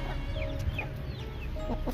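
A multicolored rooster clucks softly in short, scattered calls over a steady low background hum, with no talking.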